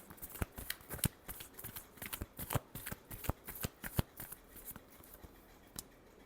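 Tarot cards are shuffled by hand in a steady series of crisp riffling flicks and soft slaps, close and fairly quiet, with no talking.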